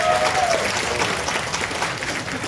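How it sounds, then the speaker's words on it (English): A large room of attendees at a closing speech breaks into full, even applause, loud and sustained across the short stretch. "Give yourself a big round of applause."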